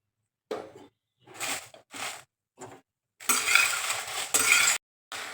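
Dry red chillies roasting in a couple of spoons of coconut oil in a pan, heard as scattered bursts of scraping and clinking, then a louder sustained sizzle with stirring near the end.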